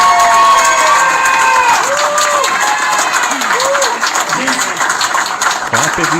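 Stand-up comedy crowd claps and cheers loudly, a dense roar of applause with whoops and shouted voices riding over it, staying full and close throughout.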